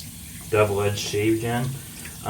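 Tap water running into a sink to soak a shaving brush before lathering, a soft continuous splash close by, partly under a voice.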